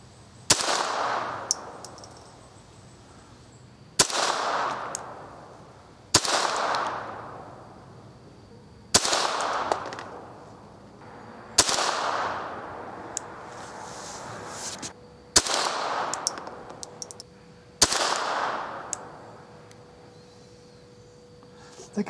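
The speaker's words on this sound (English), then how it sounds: "I want to shoot the top target first. This is open sights now. I don't have a scope or anything on this gun" A rifle with open sights fired at targets 20 yards away, outdoors: seven sharp, loud shots spaced a few seconds apart, each followed by a short decaying echo, with no talking between them.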